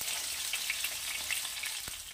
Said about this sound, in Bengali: এখানে মাছগুলো খুব ভালো করে ভাজা হয়ে গেছে।